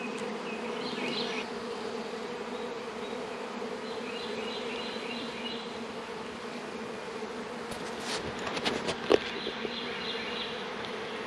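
Honey bees swarm around a fully opened beehive during a June inspection, making a dense, steady drone with a close, unbroken buzz. A few brief clunks and rustles of hive handling break in near the end.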